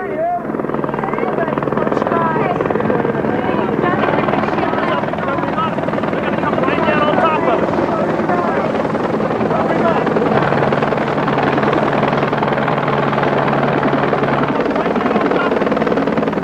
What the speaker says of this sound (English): There was a very faint whirring of a helicopter that we could hear.